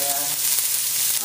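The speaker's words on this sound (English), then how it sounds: "This is really hot. Go ahead and add our onions in there." Onions and garlic hit a very hot pan and sizzle loudly and steadily, a dense, even hiss holding throughout with no talk over it.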